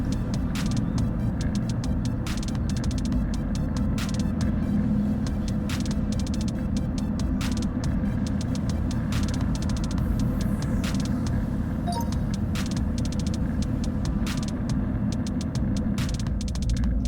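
Inside a car driving on a road while passing a cyclist within the speed limit, a loud, steady low rumble of road and engine noise continues throughout with faint ticking clicks and no talking.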